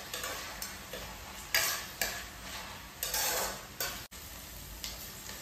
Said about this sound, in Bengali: ফ্রাই করে নিচ্ছি।